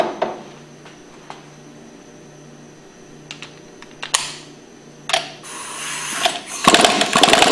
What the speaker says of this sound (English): We'll go ahead and remove it with a 5/8 socket.